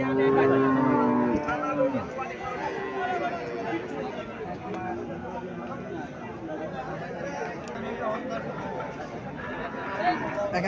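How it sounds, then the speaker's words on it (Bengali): A Friesian dairy cow moos in a farmyard. One loud low moo opens the clip, and chatter from several people and general livestock noise run through the rest. "এখানে একটা গাভী দেখা যাচ্ছে"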